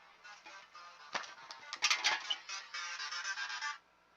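A phone ringtone plays a tune from Undertale, a bright electronic melody of rapid repeated notes lasting a few seconds before cutting off abruptly.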